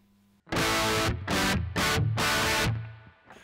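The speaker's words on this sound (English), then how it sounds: "that's what a guitar amp sounds like without the speaker cabinet attached" A 100W valve guitar amp heard with no speaker cabinet simulation: four harsh, fizzy distorted chord bursts hit in succession, bright and raspy, loud and close with brief gaps between them.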